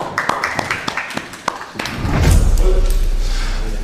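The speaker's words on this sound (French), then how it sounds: "applaudissez-la s'il vous plaît" An audience at a French blind-dating show gives scattered, close claps that thicken into a louder, dense wash of crowd applause and noise in the second half.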